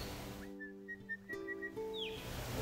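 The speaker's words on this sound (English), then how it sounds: "I can hear that five-note call of the red-browed pardalote over there" A red-browed pardalote gives a repeated high, thin whistled call of short even notes, faint and distant in open outback country near Alice Springs, over a low background hum.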